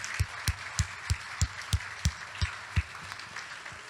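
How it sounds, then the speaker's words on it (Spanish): Church congregation applause heard as a steady series of about ten distinct, evenly spaced claps, fairly faint and moderately distant, with no talk over them. "Dale un aplauso fuerte a tu Padre Celestial."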